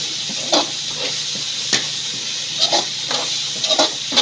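Onion and ginger hit a hot pan for pork sisig, giving a continuous bright sizzle with scattered crackles and pops spread across the clip.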